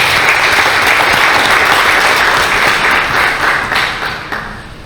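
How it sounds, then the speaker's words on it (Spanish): Audience applause for the speakers at a university higher-education panel, a dense, steady wash of many hands clapping that holds loud and even, then fades toward the end. "quisiera pedirles un aplauso para nuestros expositores que han participado ahora"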